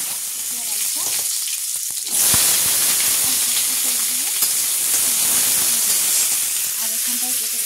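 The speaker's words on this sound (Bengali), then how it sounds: "আর এখানে ডালিয়াটাকে ভেজে নেবো।" Broken wheat (dalia) frying in a pan, a steady close sizzle that swells to a louder hiss a couple of seconds in and keeps going, with faint talk in the background.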